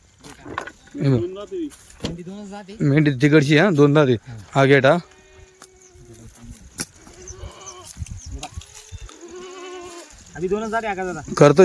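Several loud, quavering Kathiawari goat bleats come in bursts close by, with a person talking in between and brief quieter stretches.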